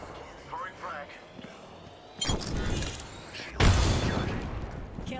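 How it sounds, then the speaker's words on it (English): A frag grenade is thrown in the Apex Legends video game and goes off in two loud bursts of broadband blast noise. Quieter game ambience and faint voice-like sounds run underneath. "Throwing frag."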